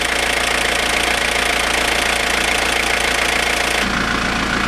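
A 1995 Mazda Bongo Friendee engine idles steadily and close after a cylinder head install, with an even mechanical chatter and a slight change in tone near the end.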